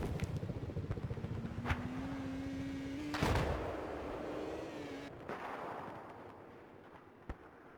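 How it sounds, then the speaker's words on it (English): Cruise missile launching in Battlefield 4 on the Hangar 21 map, a loud booming whoosh and rumble with a sharp burst near the middle, set among ongoing battle noise and distant gunfire. "Cruise missile coming out."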